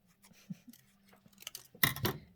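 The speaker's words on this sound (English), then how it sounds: "Let me cut this with my giant scissors." Giant scissors make a few quiet snips and clicks, then two sharp, crisp cuts near the end, close and isolated.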